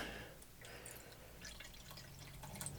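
Water poured into a small water bowl in a tarantula enclosure, a faint close trickle with light drips over a quiet room hum.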